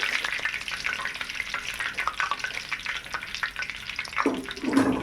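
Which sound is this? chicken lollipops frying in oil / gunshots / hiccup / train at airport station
chicken lollipops frying in oil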